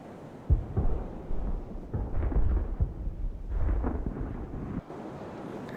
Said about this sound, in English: Wait till that cannon fires out, turning gently so we don't spoil the shots too much.